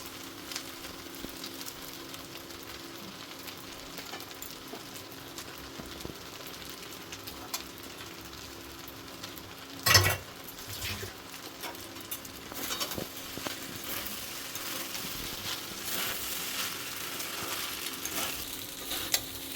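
Chicken pasta in tomato sauce sizzles in a hot pan while being stirred, a steady hiss with scraping and patter, one sharp clank near the middle, and the frying growing louder toward the end.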